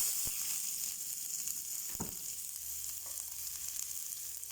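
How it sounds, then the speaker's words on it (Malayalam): Chopped small onions fry in a spoonful of coconut oil for chicken kurma, a steady bright sizzle throughout with a couple of soft knocks of a spoon, close and alone. "ഒരു സ്പൂൺ വെളിച്ചെണ്ണ ഒഴിച്ചിട്ട് അതിൽ കുറച്ച് ചെറിയ ചെറിയ ഉള്ളി അരിഞ്ഞു"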